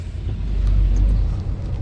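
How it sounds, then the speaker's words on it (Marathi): Low rumbling car passing close by on a muddy, damaged highway between Dahivadi and Phaltan, a brief steady engine-and-tyre drone. "गाडी गेली ना समोरची"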